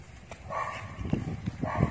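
A dog gives a few short, high yips and barks close by, with brief rustling between them.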